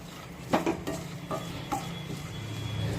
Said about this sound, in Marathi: 2 ते 3 मिनिटे या मसाल्यांमध्ये ही मटकी परतून घेऊया